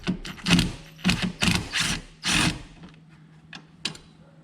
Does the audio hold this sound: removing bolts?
yes